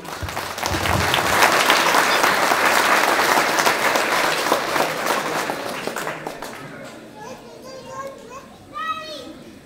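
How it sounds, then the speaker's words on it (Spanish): A crowd at a village authority handover ceremony in El Sitio claps steadily for several seconds, the applause tapering off as children's voices and chatter take over. "Así que aplausos para don Evaristo."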